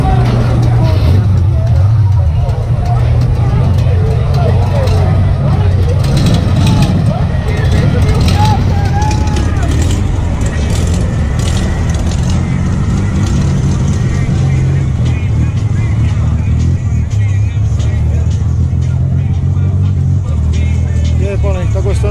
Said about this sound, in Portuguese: Mais carro pegando aqui,